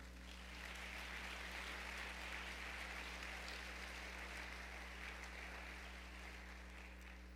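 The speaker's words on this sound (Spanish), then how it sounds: "Denle un aplauso al Señor." A church congregation claps together in sustained, even applause that fills the hall at moderate volume from start to finish, with no talk over it.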